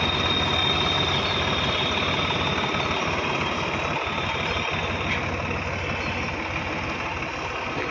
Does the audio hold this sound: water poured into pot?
no